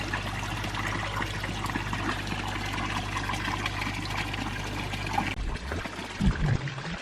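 Steady rushing spray of water from a garden hose hitting a pond surface, continuous for several seconds, then cutting off to quieter splashing and trickling.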